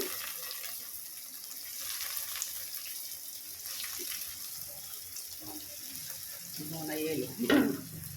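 Bread pieces shallow-frying in hot oil for double ka meetha, a faint, steady sizzle with some stirring and clinks, plus a brief louder burst of bubbling near the end.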